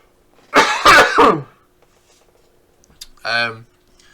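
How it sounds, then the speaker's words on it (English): A close, loud burst of coughing with a rough, throaty quality, followed after a pause by a short voiced throat sound. "I really need to cough."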